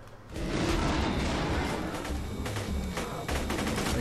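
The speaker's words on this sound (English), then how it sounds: "That gun sounds awesome. I like this gun." Continuous loud gunfire from a gun in the video game Borderlands 2, a dense rapid volley close up that barely lets up for several seconds.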